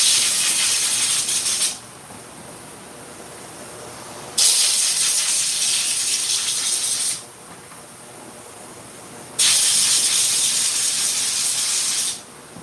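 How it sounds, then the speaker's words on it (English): Air compressor nozzle blows liquid off clipper blades after ultrasonic cleaning, giving three loud, close hissing blasts with quieter gaps of softer airflow between them. "Blowing all the liquid off of them."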